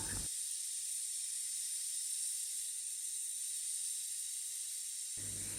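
A pressure cooker cooking goat head lets out steam, a continuous high hiss that holds steady and loud for several seconds without break.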